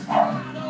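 A single short dog bark, close and fairly loud, rises in the middle of a home kitchen setting.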